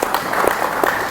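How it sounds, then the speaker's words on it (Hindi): Loud, dense applause from a crowd clapping for children who have just wrestled at a yoga session, a continuous close wash of many hands with no break. "जोरदार तालियां भाई सबके लिए।"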